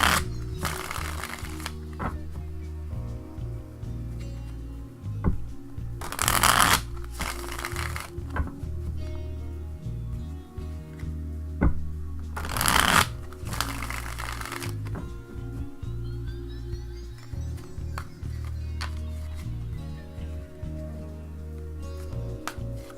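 Mystical Tarot cards are shuffled in a few separate bursts of soft riffling and flicking, set against steady background music throughout.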